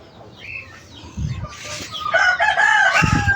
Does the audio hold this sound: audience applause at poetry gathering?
no